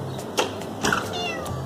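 A pet cat meows twice in quick succession close by, short plaintive calls over a quiet indoor background with faint hum.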